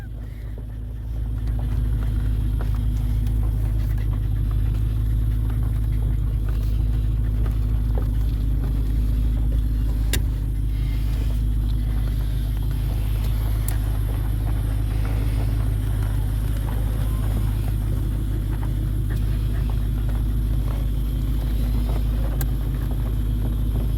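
A 1996 Ford Mustang GT convertible with a 4.6-liter 2-valve V8 and automatic transmission, recently repaired after a bad motor, drives steadily with a continuous deep engine drone and wind rush, close and loud throughout.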